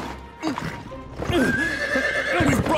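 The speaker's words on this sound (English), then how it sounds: "We've brought the horse that was tethered in the stable." A horse that had been tethered in a stable whinnies loudly and close in a Chinese historical action film, its long rising neigh ringing out over hoof clops and ambient movement.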